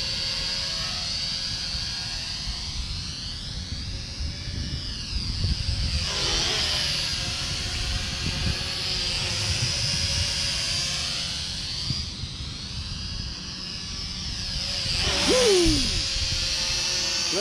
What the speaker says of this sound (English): These are toy drones. It's for racing, not for photography